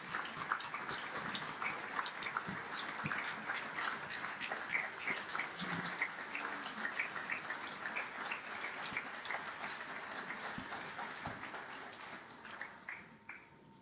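A large audience at the opening ceremony of CCAS 2017 gives long, steady applause as a choir of young men from Barbados is welcomed, with dense clapping holding even throughout and easing off in the last second.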